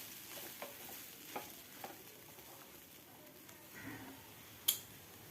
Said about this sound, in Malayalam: ഉപ്പും ചേർത്ത് നല്ലപോലെ ഒന്ന് മിക്സ് ചെയ്യണം.